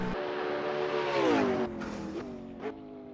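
Race cars in a sim racing game whine past with tonal engine notes that rise and then drop as they go by, followed by shorter engine bursts fading out, all without voices.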